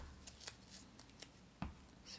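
Scissors snip through dimensional foam adhesive cut from a larger roll for a papercraft Christmas card, a series of soft, crisp clicks heard close and quiet in a still room.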